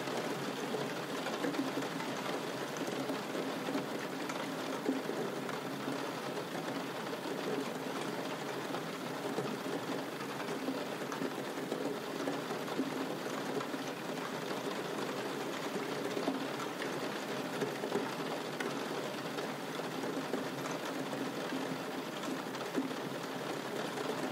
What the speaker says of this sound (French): Continuez de vous laisser bercer par le son de la pluie